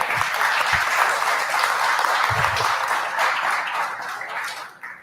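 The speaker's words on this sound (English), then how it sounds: "give yourselves a round of applause for being here" Audience applause fills a crowd at Xbox Community Fanfest, a steady dense wash of clapping held at even loudness for several seconds before easing slightly at the end.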